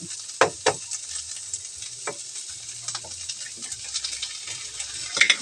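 An egg frying in a pan: a close, continuous crackling sizzle with occasional sharp pops and spatula clicks.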